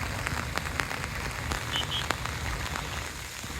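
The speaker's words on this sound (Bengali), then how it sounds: "প্রচুর কাদা আর বৃষ্টি পড়ছে" Steady rain pattering on a muddy road in Gazipur, a continuous close hiss of drops with scattered sharper splashes, no voices.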